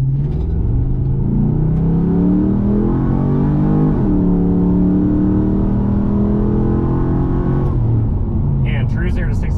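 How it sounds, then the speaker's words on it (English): Modified Pontiac GTO with a naturally aspirated engine launching from a light brake rev and accelerating from 0 to 60, a loud, sustained engine roar rising through the gears with a brief dip at a shift, and a short spoken remark near the end. "I'll do a light brake rev while trying to not let it overly spin, and we'll see what it can do"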